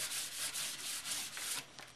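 Quick back-and-forth scratching of hand sandpaper, starting to clog, rubbing over finished wood, a dry rasping rhythm of about eight strokes, close and fairly quiet.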